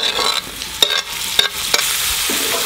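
Tomatoes hit a hot frying pan while lentils and spices are being cooked for a Pakistani breakfast, giving a loud, steady, close sizzle with a few sharp stirring clanks and scrapes on top.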